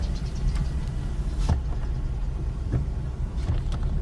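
A car comes back and passes nearby on a road, giving a steady rumbling engine drone with a few soft thumps and clicks. It is heard from inside or beside another vehicle.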